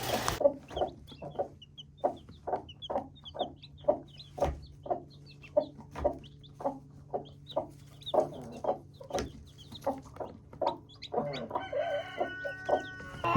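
A hen clucks repeatedly with her brood of nine newly hatched chicks, a steady series of close, rhythmic clucks about once a second, with faint peeping from the chicks and a brief louder call near the end.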